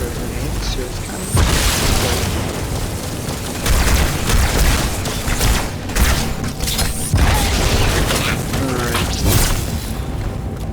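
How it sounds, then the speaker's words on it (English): Loud booming grenade blasts from the Halo 2 video game, several heavy bursts spread across the stretch amid dense gameplay noise, with voices talking over them. "Dude, why are you throwing grenades?"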